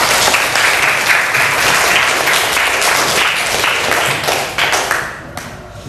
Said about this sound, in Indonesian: Kita berikan aplaus untuk kelompok Papua